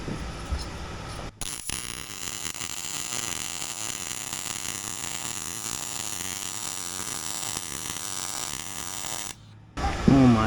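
Steady buzzing arc welding on salvaged metal for custom drive-over fenders, a continuous crackling hum running nearly unbroken for several seconds before cutting off, with a brief pause early on.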